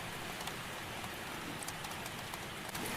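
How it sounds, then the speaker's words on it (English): Steady rain falls in a dense, even hiss that never lets up, with no voices over it. "The rain is falling in earnest now as you reach the door"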